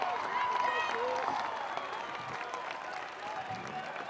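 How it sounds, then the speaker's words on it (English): A crowd at an outdoor obstacle course claps and cheers, loud at first and easing slightly, while a commentator talks over the noise. "You hear the crowd behind Chris"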